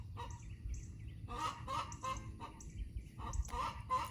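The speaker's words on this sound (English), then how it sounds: "Chickens." Backyard hens cackle and squawk loudly in repeated honking bursts, one apparently agitated by newcomers or about to lay, heard faintly at a distance over a low background rumble.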